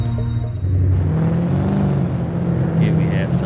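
A Porsche 968 Club Sport engine drones steadily in the Top Drives racing game during a slalom test, a loud continuous hum that rises in pitch, with some talk over it.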